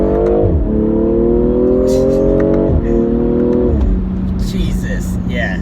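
A 2020 BMW M340i engine revs hard in repeated rising sweeps that cut off abruptly, then settles into a lower steady drone with faint crackles, loud and close.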